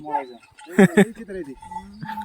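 A bull among a farm's many bullock pairs lets out two loud, sharp bellowing calls close together, with other animal calls and people talking nearby before and after.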